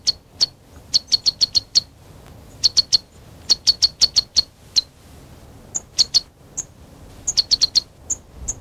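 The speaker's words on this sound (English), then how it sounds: "A sunbird sits on the 10-foot flower column of a giant lobelia." A sunbird perched on the tall flower column of a giant lobelia gives rapid bursts of high, sharp chirps in quick clusters, fairly close and clear over a quiet low background.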